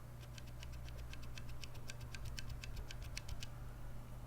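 Keystrokes on Cherry MX Black linear mechanical switches, a steady run of crisp, evenly spaced clicky taps close up over a low constant hum, with no voices.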